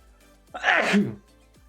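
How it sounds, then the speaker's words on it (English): A single sneeze burst, loud and close, rising sharply and fading within about half a second during a livestream of modded Kerbal Space Program. "Why am I still sneezing?"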